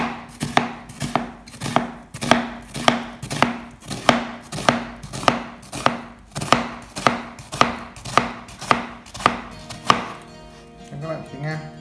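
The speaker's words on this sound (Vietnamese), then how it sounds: "Hành tây thì mình sẽ băm nhỏ." Kitchen knife finely chopping onion on a cutting board, about twenty even, rhythmic strokes close up, ending with a few quicker, lighter taps.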